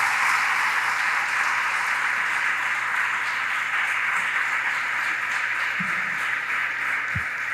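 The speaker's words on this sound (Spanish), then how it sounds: "le brindan un fuerte aplauso al Señor" A church congregation at a Sunday service applauds, producing a steady, continuous wash of clapping that sounds somewhat distant and even throughout, with a couple of brief low thumps near the end.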